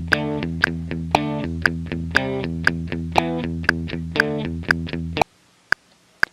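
Plucked guitar notes from a home recording play back in a steady rhythm for about five seconds, then playback abruptly cuts out into near silence with a couple of faint ticks until the next recorded part.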